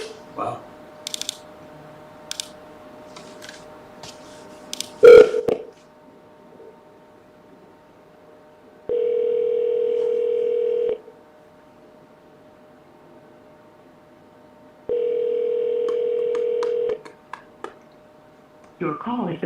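An outgoing phone call rings back on a cold call, giving two evenly spaced, flat electronic ring tones of about two seconds each, preceded by clicks, taps and a voice.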